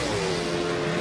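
Grand Prix race cars practicing, a continuous loud engine roar with a sustained droning whine, close and steady throughout, without talk.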